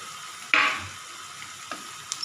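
Already-fried potatoes go into a sizzling oil tempering for an elephant foot yam dish, a sharp hissing burst that fades quickly, followed by a few soft stirring scrapes and light clicks, with no voices.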